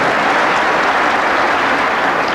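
Loud, dense applause from a debate audience at a Republican primary debate, a continuous roar of many hands clapping at close range with no voices over it.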